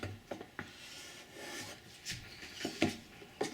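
A hand plane takes light passes over pine for a candle box, a few soft, brief scraping strokes spaced apart, close and fairly quiet.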